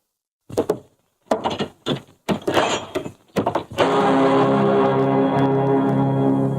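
A wooden door in an old haunted mansion gives several knocking thunks and rattles, then swings open into a sustained loud hiss and rumble that fills the rest of the moment.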